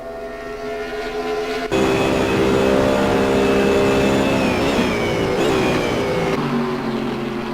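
Race cars in the simGT racing game howl down the back straight at Monza toward the Parabolica, a loud sustained multi-car engine drone that jumps in volume after a quieter start and holds steady with shifting pitch.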